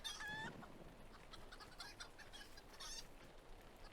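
Chickens cluck softly in a garden in the Lord of the Rings Online video game, a few scattered calls against a quiet background hiss.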